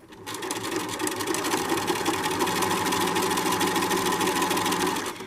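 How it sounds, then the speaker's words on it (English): A sewing machine runs steadily for several seconds, stitching fabric for a decorative pillow with a fast, even mechanical whir and rapid needle rhythm, close and continuous. "when the presser feet get close to the edge of the fabric, I'm going to stop, turn my hand wheel so that the needle goes down into the fabric"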